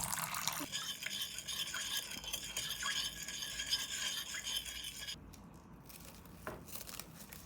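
A spoon stirs yeast and sugar into warm water in a bowl, making a steady, close scraping and swishing that runs continuously and fades slightly toward the end.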